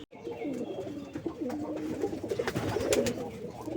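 Raj Golla pigeons coo steadily in a coop in low, throaty rolls, several birds overlapping at close range, with occasional faint clicks and rustles.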